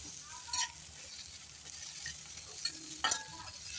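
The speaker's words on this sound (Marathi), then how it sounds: "तेलावर आपल्या भेंडी चांगली शिजत आहे" Okra cooks in oil in a pan with a faint, steady sizzle, broken by a few soft scraping stirs of a spatula; no one speaks.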